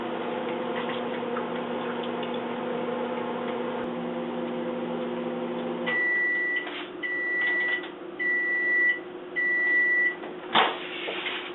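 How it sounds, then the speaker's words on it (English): A microwave oven heating spaghetti squash hums for several seconds, then falls quiet and sounds four short, evenly spaced electronic beeps, clear and close, with faint ticking noises between them. "right now my spaghetti squash is finished in the microwave"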